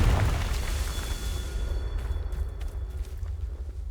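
Confringo explosion spell in a Harry Potter video game: a deep booming blast that hits at once and then rumbles and decays over several seconds, with faint clicks and a thin tone above.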